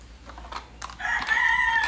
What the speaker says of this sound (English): The cock of the crow.